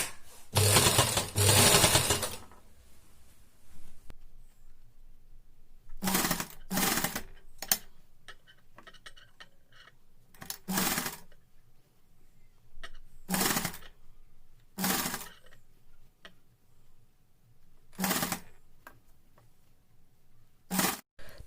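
A sewing machine stitching a newborn baby cap in a round, with short loud bursts of rapid mechanical stitching separated by quiet pauses, close by.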